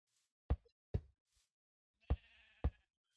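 A Minecraft sheep bleats once, a short nasal call among sharp, quiet block-placing knocks in a sparse, otherwise silent scene.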